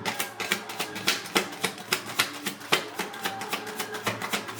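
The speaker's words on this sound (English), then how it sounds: "I scrambled all these, or I shuffled all of these cards prior to the reading." Oracle cards are shuffled by hand in a quick, regular run of crisp riffling snaps and taps, close and clear, with no talking over them.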